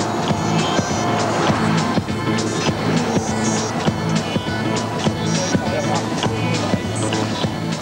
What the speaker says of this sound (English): In its first laps around the track, the Aston Martin surprises with a speed of 309